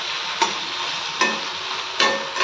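A spatula stirs a pot of dal, three scraping strokes spaced about a second apart over a steady sizzling hiss, close and clear with no voices.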